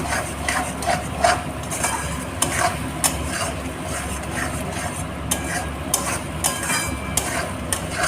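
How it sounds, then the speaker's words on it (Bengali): A utensil scrapes and knocks against a pan as vegetarian bean paste, seasoned with turmeric and a little sugar and made without onion or garlic, is stirred in steady repeated strokes over a soft sizzle. "দিয়ে এটাকে এবার নাড়তে থাকবো।"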